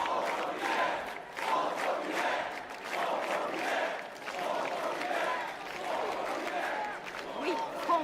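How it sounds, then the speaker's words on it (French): A large crowd at a rally in Saint-Denis chants "Front populaire" over and over in a rhythmic, surging roar from many voices. "quand on entend la foule scander Front populaire"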